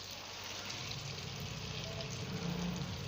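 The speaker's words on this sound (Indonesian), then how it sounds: "Goreng pisang crispy secukupnya dulu pada minyak goreng agar pisang crispy tidak gosong maupun kurang matang nantinya." Crispy banana slices frying in cooking oil give off a steady, dense sizzle and crackle, close and even throughout, with no talking.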